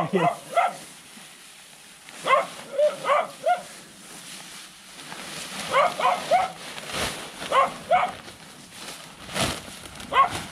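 A rural farmhouse dog barks in repeated short bursts at moderate distance, several clusters of sharp barks separated by brief pauses, with rustling outdoor background noise between them.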